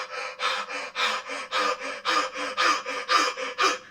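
Forceful bioenergetic breathing, a run of about a dozen loud, rapid, rhythmic breaths pulled in and pushed out through the mouth, close and evenly paced with no talk.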